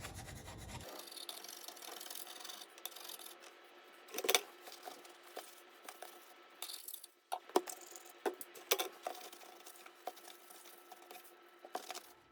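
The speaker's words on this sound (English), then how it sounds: "I'm just going to use a little putty knife just to help get off some of those bigger chunks." Putty knife scraping old sealant off a kitchen sink surface during a faucet replacement, heard as faint, irregular scrapes and small clicks, with a few sharper strokes against a quiet background.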